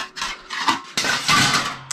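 Pots, pans and dishes knock and scrape during washing at a home kitchen's wood-fired stove, with irregular close clatters and splashy rattles rising in a busier second half.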